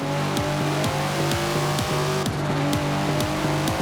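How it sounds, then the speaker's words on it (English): Datsun engine in Forza Horizon 4 revving hard and continuously, with repeated rising gear-change sweeps and a rasping race-car tone, loud and close with no talking. "Never heard a Datsun sound like that, have you?"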